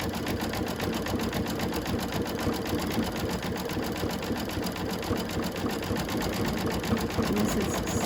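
A sewing machine stitches steadily through thick quilt layers of a snowman block, its close, continuous rapid whir running unbroken for the whole stretch.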